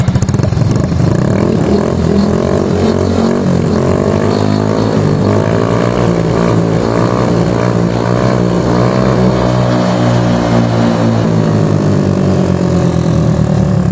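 Yamaha Soul GT 125 scooter with an aftermarket WRC exhaust, running close and loud, a steady throaty drone that rises in pitch as the throttle is opened and held.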